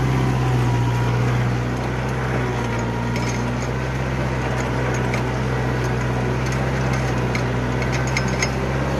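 A Kubota 4501 tractor engine drones steadily at close range, a constant heavy hum with light metallic clinks scattered over the top.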